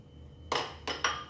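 Drained peanuts being stirred in a pot for yema de mani, three short scraping, clinking bursts close by in an otherwise quiet kitchen.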